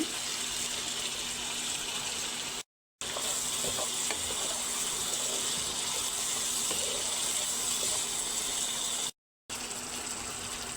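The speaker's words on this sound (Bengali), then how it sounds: "এখন কুমড়াটা দিয়ে আমি আবার ভালো করে কষাই নেব।" Steady, dense sizzling of pumpkin stir-frying in a hot pan, continuous and fairly loud, with two brief cuts of silence.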